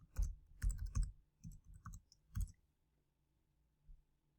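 Fingers tap out a password on a computer keyboard in a quick burst of close, crisp clicks over the first two and a half seconds, then fall quiet apart from one last faint tap.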